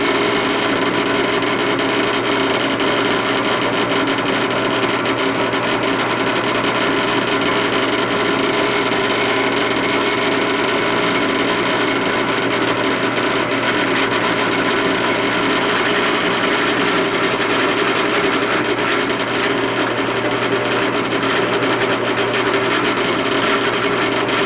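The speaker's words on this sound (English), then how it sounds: "Alright, have all the holes drilled" A drill bores holes in a karambit knife blank with a steady, loud, unbroken grinding whir that holds for the whole stretch without pauses.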